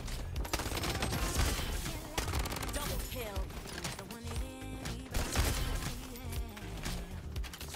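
Dense bursts of automatic gunfire from the Bloodstrike video game, loud and nearly continuous, with rapid repeated shots and some clatter, while a voice talks over the action.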